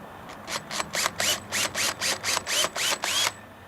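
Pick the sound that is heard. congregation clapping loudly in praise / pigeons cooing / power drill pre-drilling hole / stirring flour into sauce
power drill pre-drilling hole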